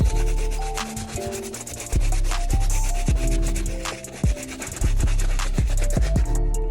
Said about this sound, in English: Starting with the soft bristle brush, we will use this in order to clean the uppers.